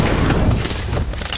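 Incendio fire spell cast in Harry Potter: Magic Awakened, a brief dense burst of whooshing flame and booming impact with crackling tail, loud and close.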